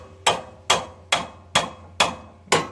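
A hammer strikes a pickle fork driven in to free a truck's ball joint, six sharp metallic whacks at a steady, fairly quick rhythm, close and loud with nothing else heard.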